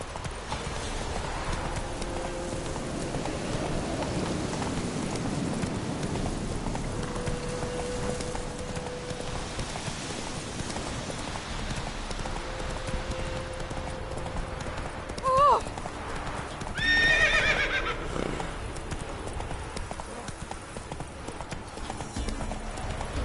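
The horse Roach galloping in The Witcher 3, steady rhythmic hoofbeats with a short neigh partway through, heard under game dialogue and background sound.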